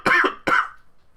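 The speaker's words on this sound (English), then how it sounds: "I don't mean to cough in people's ears" Two sharp, close coughs from a man, one after the other in quick succession, followed by quiet.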